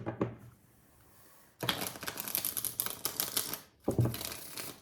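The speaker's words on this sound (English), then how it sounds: "Clean shuffle, though." A deck of tarot cards is riffle-shuffled: a soft tap, then a dense, crisp fluttering burst lasting about two seconds, followed by a shorter second riffle.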